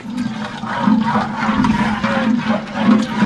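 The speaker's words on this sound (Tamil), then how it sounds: "கடுகு போடுறேன்." Mustard seeds hit hot oil in a pan during outdoor village-style cooking of goat curry, making a loud, steady, dense sizzle throughout.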